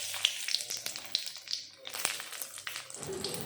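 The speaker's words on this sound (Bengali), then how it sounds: "তেল ভালো মতন গরম হয়ে গেল, দিয়ে দিলাম পাঁচফোড়ন আর তেজপাতা," Panch phoron and bay leaves hit hot mustard oil in a pan, giving a quiet, crackling sizzle with scattered sharp pops from the spices over a few seconds.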